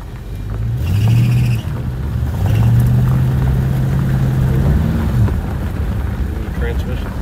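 A 1972 Ford Maverick with a badly slipping transmission runs close by, its engine droning loudly and surging in pitch in long, strained rises while a voice is faintly present.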